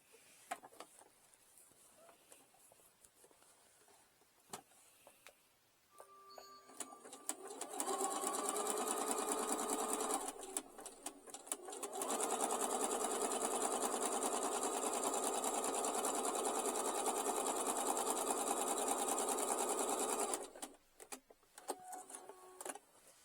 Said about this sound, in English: I'm just going to zigzag right across there in a tight zigzag.